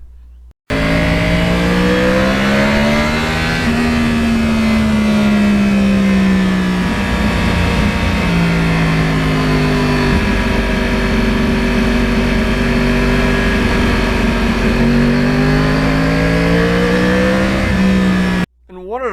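Yamaha R1 motorcycle with a cross-plane engine, throttle whacked open and accelerating hard through the gears, its loud, continuous engine note rising and falling with each pull for nearly the whole stretch.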